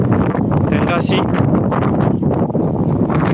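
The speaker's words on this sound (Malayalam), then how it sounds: "അസാധ്യമായ കാറ്റാണ് അസാധ്യമായ കാറ്റ് നമുക്ക് നിൽക്കാൻ പോലും പറ്റാത്ത കാറ്റാണ്" Strong wind at Thirumalaikovil, Tamil Nadu, buffets the microphone in a constant loud roar and rumble, with a few words spoken partly buried beneath it.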